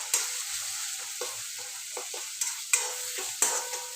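Spices with garam masala stir-fried in a pan: a steady hiss of sizzling with several sharp spoon scrapes and taps against the pan, close by and without talk.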